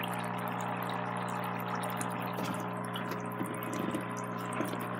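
A HoMedics Bubble Spa Pro foot spa with heat boost bubbles water steadily, a continuous churning and gurgling over a low motor hum, close and even throughout.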